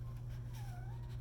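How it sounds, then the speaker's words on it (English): A pet cat whines at a door, giving one faint, drawn-out rising and falling meow over a steady low hum. "my kitty cat is whining at the door"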